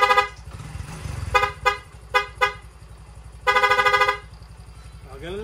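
A Honda XRM 110 motorcycle engine idles while its newly replaced horn sounds in short bursts, a few quick toots followed by one longer, steady honk.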